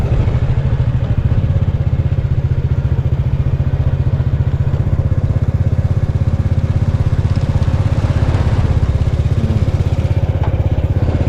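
A motorbike rides along the Mekong riverbank near Hat Xai Fong, Vientiane, its engine loud, close and steadily droning throughout with faint rattling.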